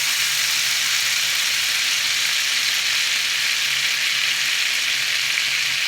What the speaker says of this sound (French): je mets mon jus de champignons